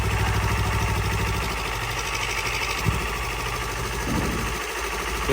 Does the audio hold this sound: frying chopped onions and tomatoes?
no